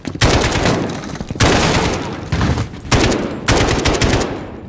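Loud sustained automatic gunfire in Call of Duty Modern Warfare (2019), several long bursts of rapid shots with brief gaps between them, close and dominant, with faint voices beneath.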